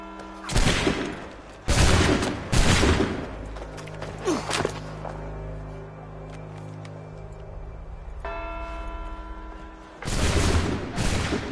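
Musket volley gunfire in the Assassin's Creed 3 video game: several heavy booming volleys in quick succession, a lull filled with low tones and whooshes, then another loud volley at the end.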